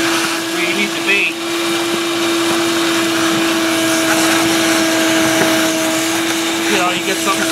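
A vacuum drones steadily while soil is cleared from around a buried sprinkler hose near a valve manifold, a loud continuous motor whine with a fixed tone and gritty rattling debris throughout.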